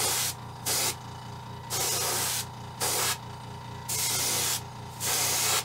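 Airbrush spraying paint onto a crappie fishing lure: four close, steady hissing bursts, each lasting about half a second to a second, separated by short pauses over a low background hum.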